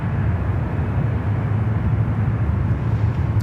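An Emirates Airbus A380 airliner on its takeoff roll at Sydney Airport, a heavy, steady low engine roar heard from the boat ramp, loud and unbroken without talk.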